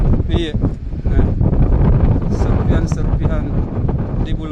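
Strong gusting wind buffets the microphone on a mountain peak at an ATR aircraft crash site, a loud continuous roar with people talking over it.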